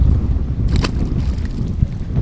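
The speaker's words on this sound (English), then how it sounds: "It is real windy and it's real chilly." Steady wind buffets the microphone in heavy low rumbling gusts on a chilly day while fishing from a boat, with a brief sharper whoosh partway through, no voices.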